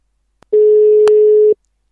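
Telephone busy signal: a single steady, loud electronic tone held for about one second after a faint click, then silence.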